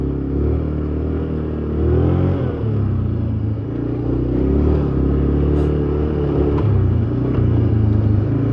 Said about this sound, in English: it's the whine of the drivetrain and all that